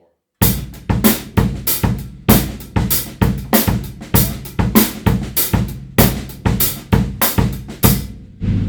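A drum kit plays a steady, punchy groove in a three-bar cycle, repeated sharp hits in a looping pattern, loud and close, no talking.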